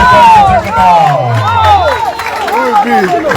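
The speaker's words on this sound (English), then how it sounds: "Make it resounding. Applaud her" Live audience at an Edo State film production centre commissioning applauding and cheering loudly for the Edo Creative Hub executive director, a dense burst of clapping and shouts mixed with crowd babble, strong throughout.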